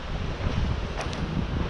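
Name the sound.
wind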